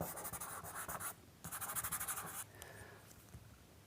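A sharp pencil scratches across paper in quick, rhythmic strokes while cracks are sketched, with short bursts of dry scraping, a brief pause, then a softer lighter stroke; close and quiet.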